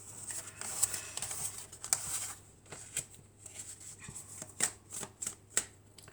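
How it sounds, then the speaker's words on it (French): Tarot cards being shuffled and drawn, a close rustling and riffling with sharp snaps and flicks, some pauses between bursts, and no speech. "on va prendre encore quelques cartes"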